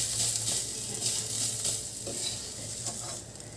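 Raw mustard oil being mixed into a garlic bharta off the heat, a soft continuous stirring and mashing texture with faint sizzle, close and moderately loud, with no talking.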